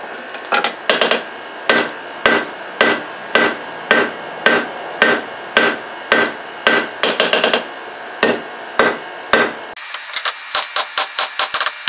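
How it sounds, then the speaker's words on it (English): A hammer forges the tang of a Damascus steel knife by hand, landing loud, ringing metallic strikes at a steady rhythm that speed into a quick flurry of blows near the end, with a low machine hum underneath. "So I'm going to go ahead and start forging the tang."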